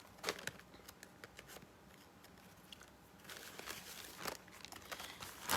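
Scissors snip through folded coffee filters with scattered crisp cuts and papery crinkling, close and quiet, clustering more densely toward the end.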